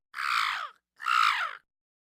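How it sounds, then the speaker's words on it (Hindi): A crow in a Hindi children's moral story gives two harsh, drawn-out caws, evenly spaced and clear against silence. "एक मादा कौआ जंगल में घूम रही थी।"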